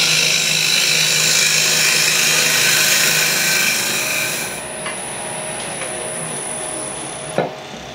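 A wood lathe spins a turned piece while a tool cuts into it, a loud continuous rough grinding whir that drops away partway through, leaving a quieter hum and a brief knock near the end.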